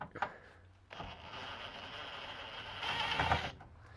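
A ratchet wrench backs out the final screw from a Frigidaire microwave's housing, a steady close mechanical clicking and grinding that swells louder toward the end before stopping, with no talking.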